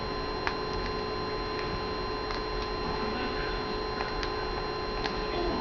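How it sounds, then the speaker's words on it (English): A tension wrench and pick work inside a Master lock No. 3 padlock, making faint scattered metallic ticks and clicks at irregular intervals over a low steady hum. "I insert my tension wrench like so, and then I go into my pick, and then I try to open it."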